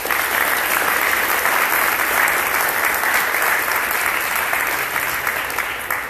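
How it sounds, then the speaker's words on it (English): Loud, sustained applause from an audience thanking an alumni panel at a central bank week event, a dense wall of clapping that holds steady for several seconds before easing slightly at the end. "So if we can give a huge round of applause to our alumni here."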